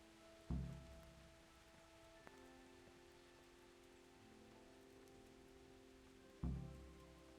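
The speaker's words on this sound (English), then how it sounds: "Seems to be raining." Rain falling steadily in the medieval world of Kingdom Come Deliverance, a soft, even hiss, broken by two dull thuds and a faint ringing tone.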